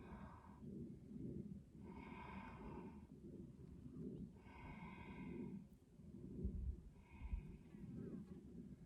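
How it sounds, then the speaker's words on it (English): Steady breathing during a yoga flow, soft and close, with slow inhale and exhale rhythm under a low background hum and no talking. "Breathing."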